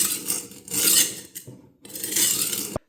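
A knife blade grinds on a rolling knife sharpener set at a 20-degree angle, a loud rasping scrape in two long strokes with a short pause between, ending in a sharp click.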